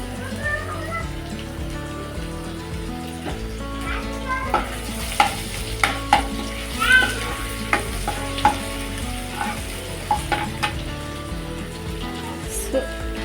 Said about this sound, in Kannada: Ginger garlic ಪೇಸ್ಟನ್ನು ಹಾಕ್ಕೊತೀನಿ.